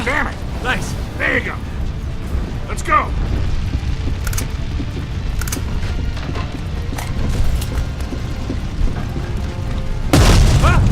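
Gunfire and booming blasts from the video game Uncharted 3 crack repeatedly over a dense, busy game soundscape, with a heavier burst of noise at the close.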